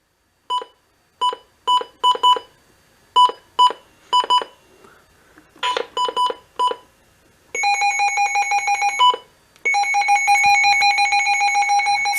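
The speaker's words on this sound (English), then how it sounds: "even the button beeps, see?" Button beeps from a Midland WR-300 weather radio, a quick series of short electronic bleeps in uneven clusters, followed by longer rapid pulsing tone bursts, close and clear with no talk.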